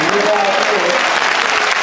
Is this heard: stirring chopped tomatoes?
no